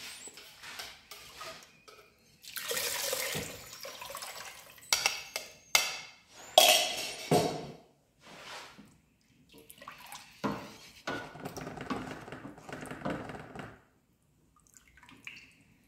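One litre of water is poured into a cooking pot for a tomato lentil stew, giving close splashing bursts with clinks of pot and utensils in between.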